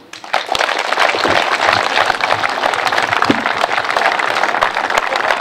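Audience applause after a speech at a residents' meeting in Berlin-Altglienicke, rising quickly to a full, sustained burst of many hands clapping close by, continuing steadily throughout.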